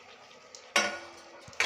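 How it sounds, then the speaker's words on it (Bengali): Soybean chunks drop into a hot pan for chili soybean, giving a sudden loud clatter and hiss followed by soft sizzling, with a second sharp burst at the end. "এখন আমি এই সয়াবিনগুলো দিয়ে দিচ্ছি"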